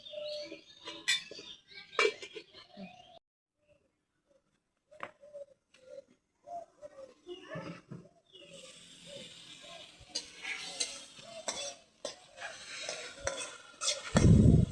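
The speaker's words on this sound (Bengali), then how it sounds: "দুইটা আলু দিয়ে দিলাম কষানি আসুক" Potatoes and dried fish being stirred and sautéed in a pan while cooking with fresh Malabar spinach: intermittent scraping and clinking of a utensil against the pan, with a soft sizzle building louder toward the end.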